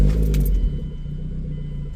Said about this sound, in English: we'll start the car up